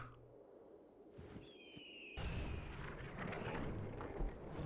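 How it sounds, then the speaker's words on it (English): Defensive towers fire on fleeing troops in a Fourth Age Total War battle at Calenhad and Mornan, a loud rumbling barrage of booms and whooshing projectiles that swells after a sharp onset and keeps roaring. "The towers are gonna shoot them down."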